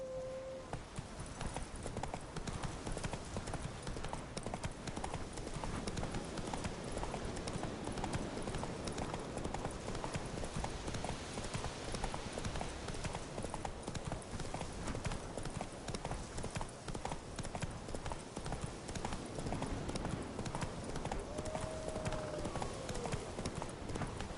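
Roach the horse gallops in The Witcher 3, hooves clip-clopping in a fast, steady rhythm for the whole stretch, with a brief neigh or whinny near the start and end.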